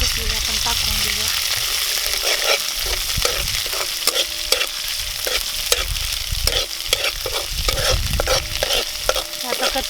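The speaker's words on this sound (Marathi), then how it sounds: "आता आपण त्यामध्ये मिरचीची पेस्ट बारीक करून घेतलेली आपण टाकून घेऊया" Ground green chilli paste sizzles loudly in hot oil in a kadhai for a rustic village-style egg curry, a steady crackling fry broken by repeated scraping stirs of a spoon against the pan, with no voices.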